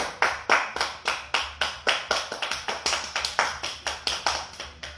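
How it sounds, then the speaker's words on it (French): Rhythmic clapping from home workout participants after a running-in-place session, a series of distinct sharp claps at a quick, slightly uneven pace, close and clear without talk. "Et on s'applaudit. Bravo tout le monde."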